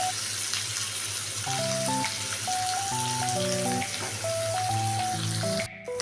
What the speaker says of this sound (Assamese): এয়া মোৰ মাছখিনি ভজা হৈ গ'ল